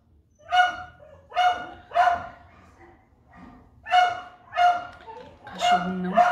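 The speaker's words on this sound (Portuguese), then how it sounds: "Cachorro não para de latir." A neighbor's dog barks nonstop in a series of loud, repeated barks spaced about a second apart, with some distant fowl-like calls mixed in and no talk over them.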